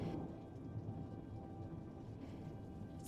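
Thunderstorm with rain: a faint, steady hiss of rainfall with a low rumbling undertone of thunder, continuous and distant-sounding, with no voices.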